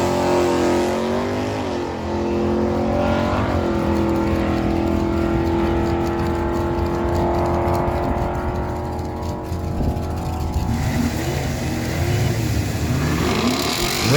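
Drag race cars launching down the strip at a dragway on NHRA day, among them a 2002 Buick Regal: loud engines rev and roar steadily, pitch rising as they accelerate away, then fading as the cars recede.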